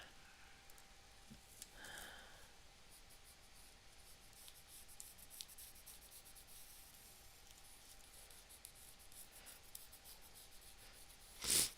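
A water-soluble pencil scratches and rubs across art journal paper in a quiet, close, continuous drawing sound with faint irregular strokes, ending with a brief louder scrape; no speech.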